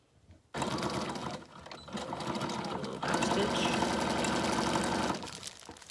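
A sewing machine stitches a short back stitch while making a fabric journal cover from a bubble mailer, whirring rapidly in close, steady bursts that pause briefly and then stop.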